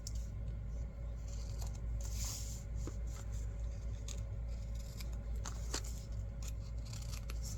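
Scissors trim the overhanging edges of a handmade paper junk journal pocket, making a series of quiet close snips and scrapes over a low background hum.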